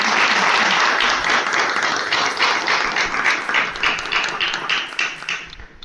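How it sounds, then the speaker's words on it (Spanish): Strong, loud audience applause for a literature speaker, many hands clapping at close range in a continuous dense burst that holds steady and tapers slightly near the end. "Les pido un fuerte aplauso para él,"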